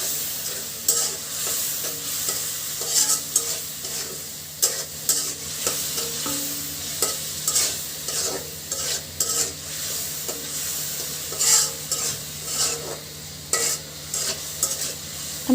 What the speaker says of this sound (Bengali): দিয়ে মশলাটা খুব সুন্দরভাবে কষিয়ে নিব